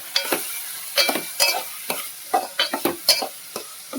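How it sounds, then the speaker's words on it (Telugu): Chopped onions and chillies being stirred through hot oil in a pan, a steady sizzle broken by repeated scraping strokes of a spoon in an uneven rhythm, close and fairly loud with no talking. "ఆనియన్స్ చిల్లీస్ అయితే చిన్న చిన్న పీసెస్ కింద కట్ చేసుకొని యాడ్ చేసేసుకోవాలి"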